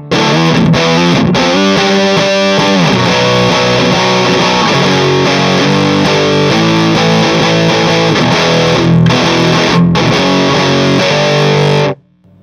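An electric guitar plays through a Mesa/Boogie JP2C+ amplifier with the presence control pulled out, giving a loud, continuous distorted tone with sustained chords that rings out and stops abruptly near the end.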